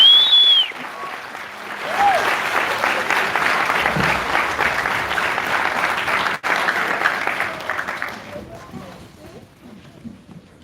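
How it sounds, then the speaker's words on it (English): Audience applause for a fifth grade chorus, loud and sustained clapping from a crowd that swells and then tapers off, with a few cheers and voices mixed in. "How about a round of applause for the fifth graders?"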